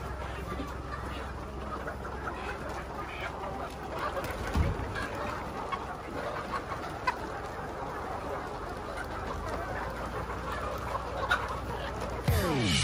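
Flock of Dekalb White ready-to-lay hens clucking steadily in a farm setting, a dense, moderately faint chorus of overlapping clucks throughout, with occasional faint voices in the background.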